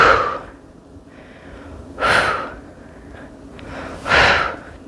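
Heavy breathing during an upper body strength workout, three loud, close exhalations spaced about two seconds apart with quieter breaths between.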